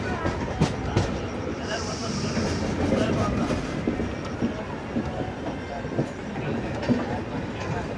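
A passenger train with LHB coaches runs at night, a continuous rolling rumble with rhythmic clickety-clack of wheels over rail joints, heard from aboard at moderate loudness.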